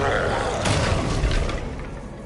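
A spell blast from the Hogwarts Legacy Bombarda spell lands as one sharp booming burst with a rumbling tail, amid the steady din of combat.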